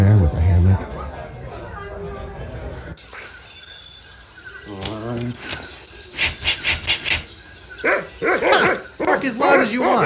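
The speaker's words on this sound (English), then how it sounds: "Bark as loud as you want." Dog barking in the adventure game Monkey Island 2: LeChuck's Revenge Special Edition, several short barks in quick bursts, moderately loud, following and between stretches of character dialogue over background game music.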